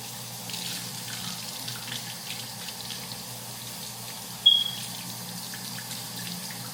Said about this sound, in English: We about to go wash out our rinse.